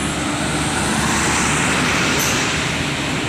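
Buses and other heavy traffic pass on a trans-east Sumatra highway, giving a continuous broad roar of engines and tyres that stays steady and fairly close throughout.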